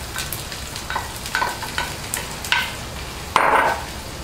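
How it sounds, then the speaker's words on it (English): About a cup of onions hitting oil with browning chorizo for a cornbread stuffing, a crackling sizzle with spatula scrapes and a louder splash of added food near the end, close and unaccompanied by talk. "I'm gonna add about a cup of onions."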